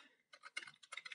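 Quick, irregular clatter of keys on a computer keyboard while a web address is typed, in two close bursts of crisp clicks after a brief pause, with no talking.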